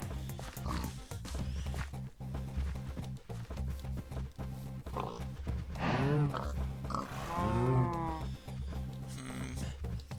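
Pigs in modded Minecraft grunt and oink twice in the latter half, fairly close and loud, over a busy bed of game music and clicking.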